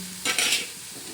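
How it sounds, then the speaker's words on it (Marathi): A spoon stirs a pan of Russian-style sprouted bean usal, giving one short scraping, sizzling burst that fades into a quiet, steady pan hiss. "ही पूर्ण उसळ आपण अशी चांगली हलवून घेणार आहोत"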